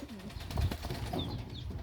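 Pigeons coo softly nearby in low, rolling murmurs, with a few faint higher chirps mixed in and no talking.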